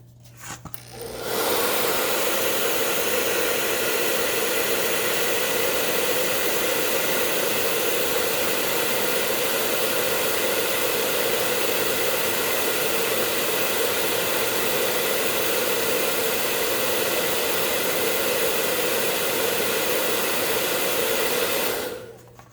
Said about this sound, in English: Blow dry that.